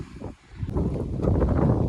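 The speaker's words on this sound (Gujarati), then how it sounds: "કેવો જોરદાર પવન આવે છે" Strong wind roars and buffets the microphone in a steady, rumbling rush that swells louder partway through.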